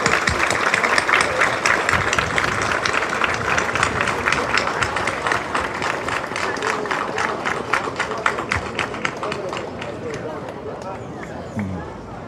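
Audience applauding medal recipients as they walk back to their seats at a military battalion ceremony, sustained crowd clapping with murmuring voices, fading slightly toward the end.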